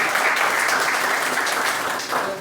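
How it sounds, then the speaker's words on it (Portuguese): A church congregation applauds, dense, steady clapping from many hands that fills the room, continuous and fairly loud for a couple of seconds. "vamos aplaudir mais uma vez"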